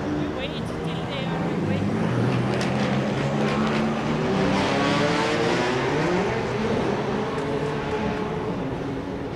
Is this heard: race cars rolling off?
yes